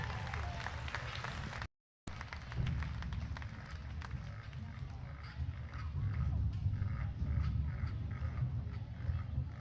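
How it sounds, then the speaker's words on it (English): An arena audience at an intermediate hog showmanship class applauds in a sustained burst of dense clapping that swells toward the end, with livestock and arena noise in the background and a voice over the public address. "Let's get them on one last round of applause as they head back."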